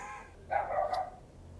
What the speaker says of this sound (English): They got dogs. I can hear them right now.